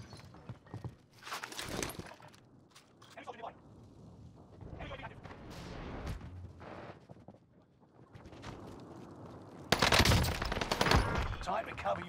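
Gunfire in the Call of Duty Warzone video game, with bursts of automatic weapon fire, scattered single shots and footsteps, ending in a loud close burst, while people talk and in-game announcer lines play throughout.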